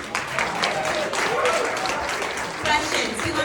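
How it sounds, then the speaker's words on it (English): An audience at a women's conference claps for a speaker, a moderate burst of applause mixed with crowd noise and talking over it. "another little clap"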